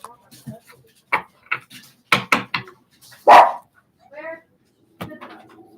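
Dogs barking in short sharp bursts, several close barks spread through the clip with brief pauses, mixed with household talk and a voice in the room.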